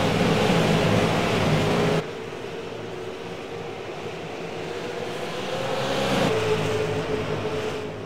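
Stock cars roar around Southern National in a Tundra Super Sim Series racing sim at the green flag, a loud, steady engine drone that drops slightly after two seconds and then swells again as the pack passes.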